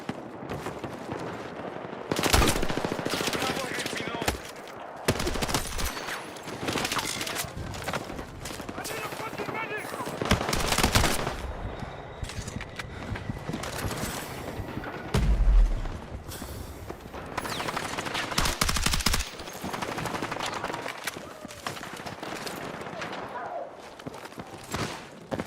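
Rapid automatic gunfire from a gun in Battlefield 6, in repeated loud bursts with scattered single shots and booms, mixed with game noise and a voice talking throughout.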